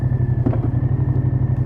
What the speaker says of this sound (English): there is an even more dramatic and huge clank when engaging at the first gear